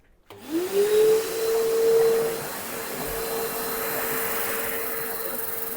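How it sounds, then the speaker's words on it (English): Shop vacuum motor whining up to speed and running steadily, held close while sanding a turned wooden mallet on a lathe, a loud continuous drone with a rising start and a constant tone throughout. "with my normal shop vacuum I'm just going to be holding this close as I'm going along"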